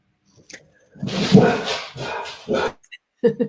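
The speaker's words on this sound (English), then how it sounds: "Loving the dogs." Dogs bark and yip in short loud bursts at close range, with whimpers between them and pauses of quiet.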